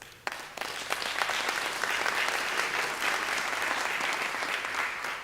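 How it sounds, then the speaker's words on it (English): Sustained applause from the audience at the Unisa 2020 academic closing ceremony, honouring the students: a sharp start followed by steady, dense clapping that holds at an even level throughout. "I think our students do deserve a round of applause."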